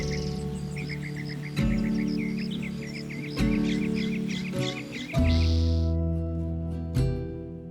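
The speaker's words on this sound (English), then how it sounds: "loud with birds and the grind of insects, the canopy reporting itself as full." Dense chirping birds and a steady grinding insect chorus layered together at dawn in a Vietnamese rainforest canopy, with low sustained tones swelling underneath in repeating sections.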